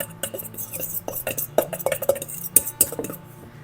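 Metal measuring spoons clink and tap against each other and a bowl while salt is measured in a kitchen, giving a string of light, close, irregular chinks over quiet room sound.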